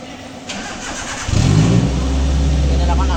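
A car engine cranks briefly and catches during a periodic service check, then settles into a steady, fairly loud idle close by, with a voice speaking over the start.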